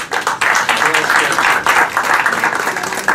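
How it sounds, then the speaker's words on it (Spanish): Audience applause at a political forum on labour law regulation, dense sustained clapping that starts abruptly, loud and close, filling the whole stretch. "Muchas gracias, don Francisco, y un aplauso, por favor."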